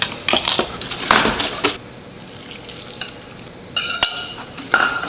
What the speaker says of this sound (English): Stir it up a little bit more.